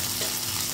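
Ginger and spices fry in a pan as the tadka for pindi chole, giving a brief, steady, close sizzle with no talking.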